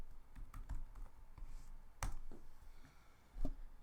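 Keys tapped on a computer keyboard while a file name is entered, a few scattered clicks and short bursts of strokes over quiet room tone, with no talking.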